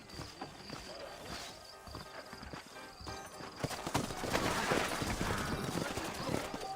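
Horse hooves clip-clop steadily in the Red Dead Redemption game world of New Austin, with an occasional whinny, growing louder and denser toward the end over a constant background bed.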